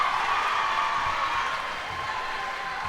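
Crowd at a varsity boys basketball game cheers and applauds after a made layup, a steady dense roar of voices and clapping filling the gym throughout, easing slightly toward the end.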